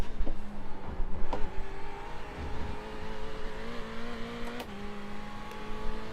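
Simulated race car engine from the iRacing game on a VRS Sprint run at Road Atlanta, held high in the revs with a steady droning tone that rises and shifts between gear changes, loud and continuous without talk.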